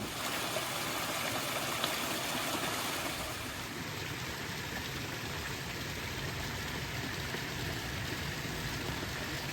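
Rushing water roars steadily at Bull Clough, a broad constant wash like a stream tumbling over a waterfall, with a faint high whine joining partway through.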